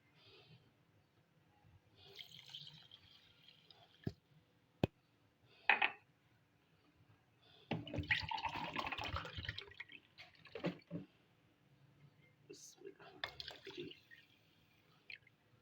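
Mineral water poured into a pan of sugar while making a summer sherbet, with trickling, splashing bursts that come and go over soft background noise. A few sharp clicks are heard, and nobody speaks.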